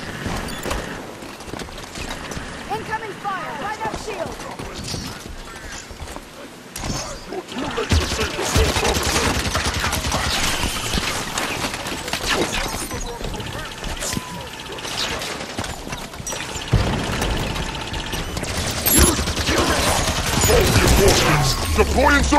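A Halo 5 Guardians firefight rages with continuous loud gunfire, rapid automatic bursts and heavy blasts layered over rumbling battle noise, while voices shout over the din.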